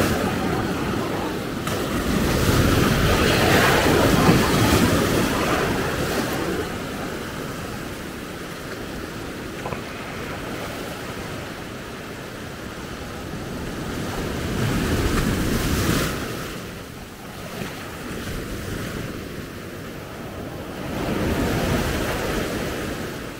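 Atlantic ocean surf rolls in at Maspalomas, Gran Canaria, during a passing storm, a broad, wind-buffeted roar that swells and fades in slow waves as breakers crash, with no talking.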